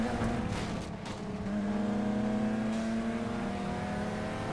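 A modded Nissan GT-R in Need for Speed slides along with a steady, high engine drone and shifting harmonic whine, holding at a constant moderate level with no talk.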